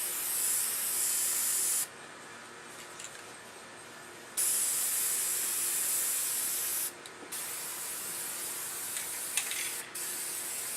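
Close bursts of aerosol spray paint hissing, a long spray then shorter ones with pauses between, with a faint rattle of the can.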